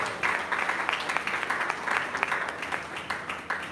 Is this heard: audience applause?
yes